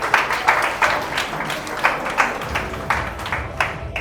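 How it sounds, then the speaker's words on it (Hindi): An audience at a direct-selling marketing seminar claps for itself, giving a steady, moderately loud round of applause with rhythmic swells and no speech over it. "तो एक बार अपने लिए ताली बजाएंगे कि हमने दुकान बदल दी।"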